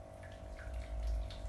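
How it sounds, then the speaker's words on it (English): Boiling water pours steadily onto loose tea in a teapot, a soft continuous trickle and splash close by with no talking. "So it's good to pour the boiling water onto your tea"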